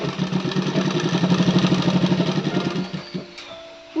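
A sewing machine runs a steady seam on a kaftan nightie, a fast rhythmic mechanical chatter that carries for about three seconds, then slows and stops with a faint hum and click.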